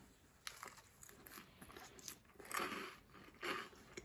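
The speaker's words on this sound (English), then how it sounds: "Let me finish chewing my food." Crunchy bites on a crouton dressed with homemade Italian dressing, a few soft close chewing crunches in bursts, quiet with no talking.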